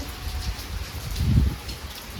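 Rain falling outside by a garden lawn, a soft continuous patter with a slightly louder gust of drops midway, steady and fairly near, with no voices.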